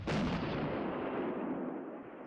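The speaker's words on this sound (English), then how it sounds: "The artillery takes a shot at him and miss." An artillery gun fires in World of Tanks, a single loud, sharp blast that rolls into a long booming decay lasting about two seconds.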